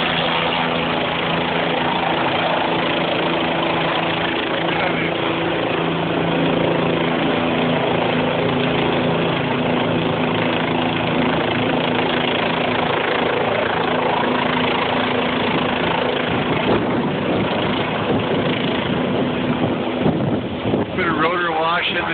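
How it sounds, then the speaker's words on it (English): A helicopter flying overhead with parts slung beneath it during a simulated accident rescue at a ski World Cup event, a continuous rotor and engine roar buffeted by heavy wind noise on the microphone. "There goes the chopper with the parts underneath."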